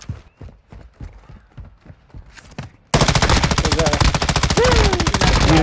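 Gunfire in the video game Warzone DMZ, first scattered bursts of shots and clattering, then a sudden switch to loud, dense, unbroken automatic fire.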